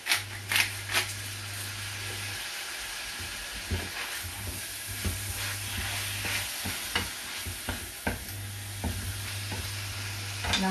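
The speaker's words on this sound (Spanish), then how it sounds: "Y ahora dejamos que se dore." Salted lamb browns in a frying pan for cochifrito with a constant close sizzle. Scattered scraping stir strokes sound over it, and a low steady hum drones underneath at intervals.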